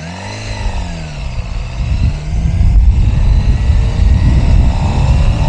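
A Suzuki GSXR sport motorcycle rides along an open road on a cool, calm day, its engine droning loud and close with steady wind and road rumble that swells after the first couple of seconds.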